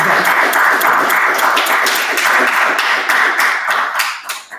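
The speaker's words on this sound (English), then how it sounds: "I hear all you clapping and all you agreeing" An audience claps steadily at a gathering, dense, loud applause of many hands that tapers off near the end.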